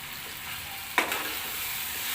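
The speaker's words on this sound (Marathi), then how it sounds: "हे चांगलं परतून घेऊया" Garam masala sautéed and stirred in a pan for masale bhaat, a steady soft sizzle with one brief scrape of the spatula near the middle.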